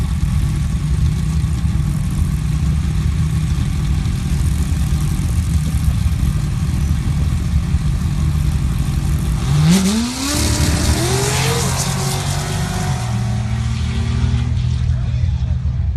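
Larry Minor Motorsports-built jeeps at a sand drag race: a loud, steady engine drone throughout, then a rising rev sweep near the end as a jeep accelerates, with a commentator talking over it.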